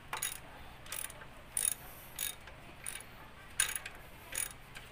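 Ratchet wrench clicks as a serpentine belt part is tightened on a Mitsubishi Mirage, short bursts of rapid pawl clicking repeating about every half second, close and fairly quiet with no talk.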